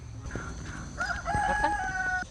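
A rooster crows once in a drawn-out call, fairly clear and close, with faint clucking and farmyard noise around it.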